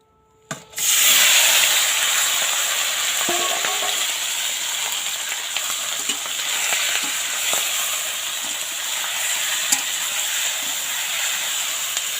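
Chicken meat dropped into hot oil in a pan over a fierce stove flame, an abrupt burst that settles into a loud continuous sizzle with small pops throughout.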